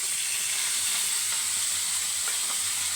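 Galunggong fish fries in hot oil, a dense, even hiss and sizzle that holds steady and close throughout, with no speech.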